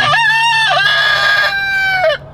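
A rooster crows loudly and close by, one full cock-a-doodle-doo with a steady low hum underneath.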